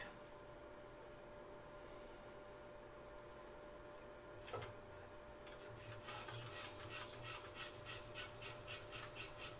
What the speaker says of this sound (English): we'll just turn the lathe on and just advance it really slowly